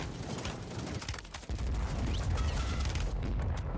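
Warzone battle noise with dense, rapid gunfire crackle and low booms over a continuous rumbling game backdrop, moderately loud and unbroken throughout.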